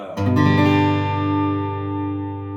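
A single strummed acoustic guitar chord, plugged directly into a Fender Frontman 212R amplifier, rings out clearly and sustains, slowly decaying with a warm, full tone, close and alone.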